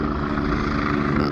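A helicopter at the Goodwood Revival, heard as a steady loud rotor and engine drone that fills the short moment with no voices.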